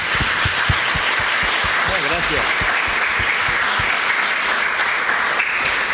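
Sustained applause from an audience at a biblical studies congress session, dense and steady for the whole stretch, with a voice briefly speaking over it and a few sharp individual claps standing out.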